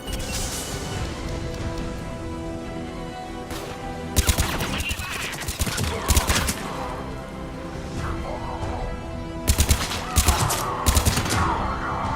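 Rapid gunfire from a sci-fi shooter battle in Mass Effect 3, with sharp bursts of automatic shots and impacts coming in loud clusters over a steady ambient game soundtrack, with distant radio-like voices faintly in the mix.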